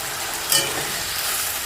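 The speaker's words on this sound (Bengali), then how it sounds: "এটাকে একটু ভালো করে নড়াচড়া করে আর ফ্লেমটাকে একটু হাই করে দেব" New potatoes cooking in a pan with a splash of water, stirred over rising heat; a steady close sizzle and hiss runs throughout with one brief scrape of the spoon.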